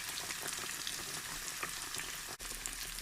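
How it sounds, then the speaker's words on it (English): Breadcrumbed food sizzling and spitting steadily in a hot frying pan, a close, continuous crackle of oil that holds evenly throughout with one brief dip near the end. "We've got a nice sizzle going on there."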